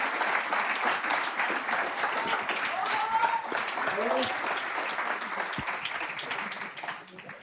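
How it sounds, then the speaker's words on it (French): An audience gives sustained, dense applause for a woman named Manon, a steady roar of many hands with voices and cheers mixed in, tapering slightly at the end. "On peut applaudir Manon qui galère aussi"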